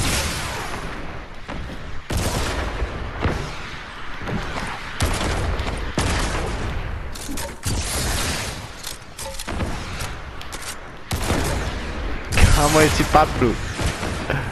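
Rapid, dense gunfire in a video game with wooden ships and zombies: loud, continuous bursts and booms with brief pauses, while players talk over the shooting.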